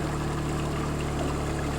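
Water flows out of a hillside in a constant, close babble and trickle, steady and unbroken with no voices.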